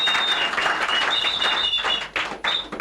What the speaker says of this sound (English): Make una clap for him